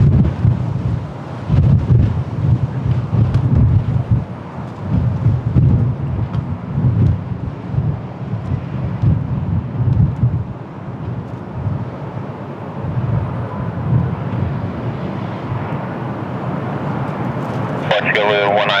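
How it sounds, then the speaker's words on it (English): Strong, gusty wind buffets the microphone at Lisbon Airport, a loud, continuous roar that swells and eases in gusts over a low rumble, with a person talking over it. "Strong winds right now,"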